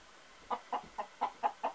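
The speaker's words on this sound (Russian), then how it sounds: "Вот петух." A rooster clucks six times in a steady, evenly spaced series on a farmstead with sheep, moderately close over a quiet background.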